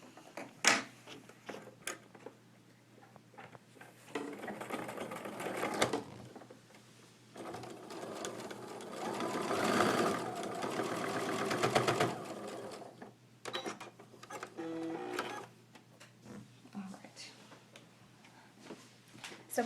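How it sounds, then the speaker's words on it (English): A sewing machine runs in several bursts of rapid, steady stitching while sewing a quilt block seam, stopping and starting between them, with small handling clicks in the pauses. "bring it right over to the sewing machine. And we're going to sew that next seam together"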